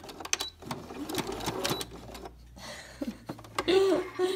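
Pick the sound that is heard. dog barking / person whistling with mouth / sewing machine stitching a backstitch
sewing machine stitching a backstitch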